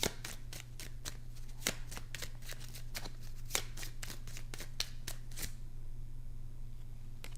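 Tarot cards shuffled in quick succession, a rapid run of crisp, close card snaps and flicks over a low steady hum, then stopping abruptly near the end with only the hum left.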